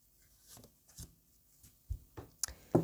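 Tarot cards shuffled by hand in several short papery riffles and taps, quiet and close, with brief bursts separated by pauses and no talking.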